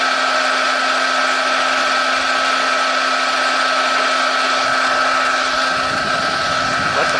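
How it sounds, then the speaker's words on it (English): A homemade DIY forge runs steadily, giving a loud, continuous roaring hiss with a constant steady hum that holds unchanged for the whole stretch. "But the forge is working"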